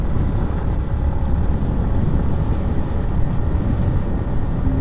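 Vehicles roll past on the potholed Mumbai-Goa highway between Mangaon and Vashi Naka: a continuous, loud, low rumble of tires and engines with broad road noise and no breaks.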